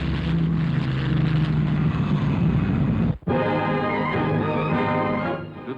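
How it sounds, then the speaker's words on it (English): A steady, loud propeller-turbine aircraft engine roars throughout, with a brief dropout midway before the drone resumes. "Here is another new means of propulsion, the turbine propeller"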